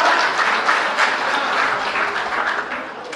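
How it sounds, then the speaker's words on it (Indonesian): A crowd at a public gathering applauds steadily for about three seconds, a dense, fairly close wash of many hands clapping with no voices over it. "Beri tepuk tangan."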